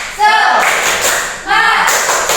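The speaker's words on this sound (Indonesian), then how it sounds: "marilah kita melakukan tepuk semangat" A grade 5 classroom of pupils performs a rhythmic clapping chant, two bursts of many hands clapping in time together with children's voices chanting loudly and close.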